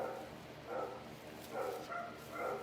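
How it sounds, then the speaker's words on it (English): Dogs bark at home in the distance, muffled and faint, in about four short bursts spaced through the moment over a low room hum. "You hear my dogs?"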